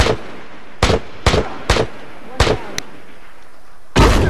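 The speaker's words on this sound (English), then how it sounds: "He is just throwing a shit ton of nades." Grenade blasts and gunfire in The Last of Us multiplayer, six separate booming bursts spaced irregularly over a few seconds, loud and fairly close.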